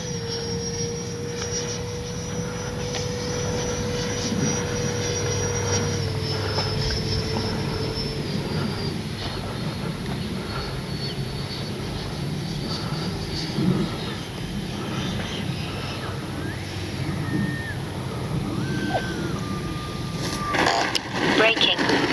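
A Freewing 90mm Zeus electric ducted-fan RC jet on its 6S setup comes in to land with flaps and retracts down, its fan whining in a steady drone with falling and rising tones, under occasional talk from the pilot.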